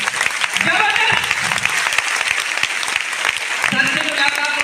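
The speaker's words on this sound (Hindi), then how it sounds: "जबरदस्त तालियां होनी चाहिए" Audience at a DXN business event hall, loud sustained applause with dense rapid clapping throughout, over a voice talking through a sound system.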